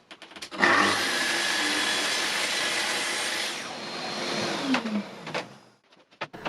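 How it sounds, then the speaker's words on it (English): A power tool trims excess wooden dowels flush on a scrap-wood workshop shelf, giving a loud, steady whirring roar for about three seconds that then drops away into a few short, sharp bursts. "While that's gluing up, I can trim off the excess dowels"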